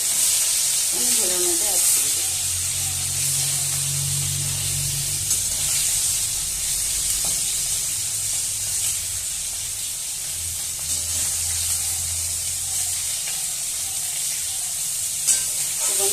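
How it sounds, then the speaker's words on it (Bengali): A steady hiss of climbing perch (koi fish) and fish roe frying in hot oil fills the clip, with a low hum underneath and occasional brief clinks. "মাছগুলো ভালো করে একবার উল্টে নিচ্ছি একটু ভাজা হয়ে গেছে"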